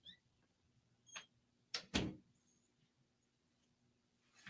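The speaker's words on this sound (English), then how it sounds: "Shut that door." A door in a radio studio is pushed shut, giving two quick, close knocks in a row, with a softer tap just before and a faint scrape at the end, against a quiet room hum.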